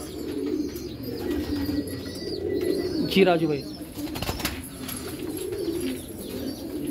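Pigeons cooing at a pigeon breeder's farm in Hyderabad, with green hens among the birds: a low, steady murmur of coos and flutters throughout, someone speaking briefly over it.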